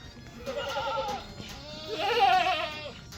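Goats on a Pakistani village farm bleat in two close, loud wavering calls, the second longer and stronger, with no one talking over them.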